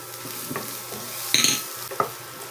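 Onion added to golden brown garlic in a pan, a soft steady sizzle with a few spatula scrapes and a brighter clatter midway, close and fairly quiet, with no one speaking.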